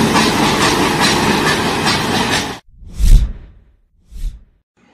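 A new coach of the Nilgiri mountain train on a test run between Mettupalayam and Coonoor rumbles past loudly and steadily, then cuts off, followed by two short whooshing rushes of passing carriage noise.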